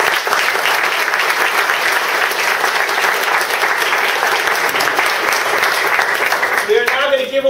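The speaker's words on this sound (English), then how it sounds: "I want to give a great big round of applause to Tung Nguyen." An audience applauds a speaker at the close of a tech talk, a loud, sustained wash of clapping that runs unbroken for several seconds, with a voice starting up over it at the very end.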